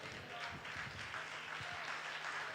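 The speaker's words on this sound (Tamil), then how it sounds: "கைத்தட்டுங்க பார்க்கலாம்." A church congregation claps during a Tamil promise worship service, a steady, dense wash of many hands heard from a distance and sustained without a break.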